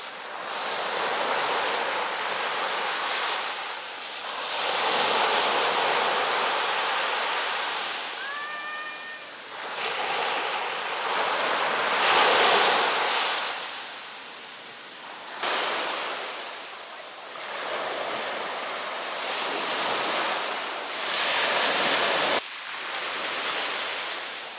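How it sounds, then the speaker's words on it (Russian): Evening sea waves wash onto the shore at a Manavgat, Turkey beach resort at sunset, each surge swelling into a broad hiss and receding in a slow repeating rhythm, with a brief whistle-like tone partway through. "Вечернее море."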